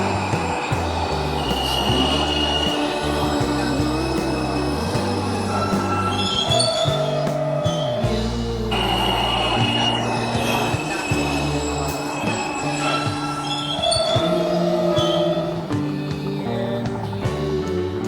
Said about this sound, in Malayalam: ടോയ് ട്രെയിൻ എന്നൊക്കെ പറയുമല്ലോ ടോയ് ട്രെയിൻ